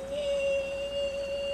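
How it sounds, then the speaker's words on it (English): Aircraft doors opening in the Airport Sim game: a steady mechanical whine holds one pitch with a fainter high tone above it over a soft hum, lasting under two seconds with no talking. "That's the sound of the doors opening."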